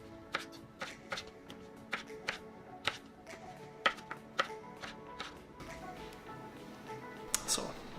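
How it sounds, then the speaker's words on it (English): A knife chops potato strips into fries on a board, a series of sharp irregular taps roughly every half second, fairly faint in a quiet kitchen. "now we have those strips and we cut them"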